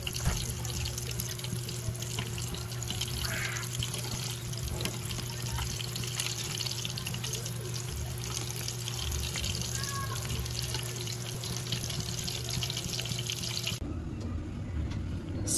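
A shrimp omelette (tortang alamang) fries in hot oil with a steady, dense, close sizzling hiss that drops away sharply near the end.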